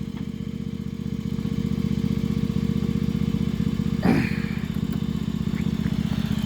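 A Mastercraft 17.5 HP riding mower with a 42-inch deck runs steadily at a low, even idle after a cold start on full choke, with a brief clatter partway through.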